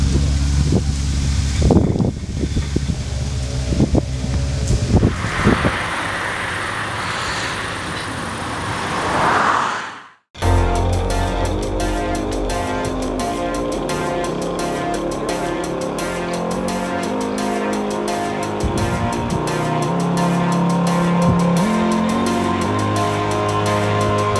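Off-road rally car from the Wild Boar Challenge in Ukraine, its engine droning steadily with wind buffeting the microphone, a brief cut partway through, then continuous road and engine noise under faint talk.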